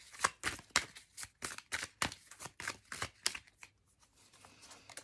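Tarot cards are shuffled in a quick run of close, crisp slapping riffles, about a dozen in rhythm, before they thin out and fade to near silence as a card is drawn.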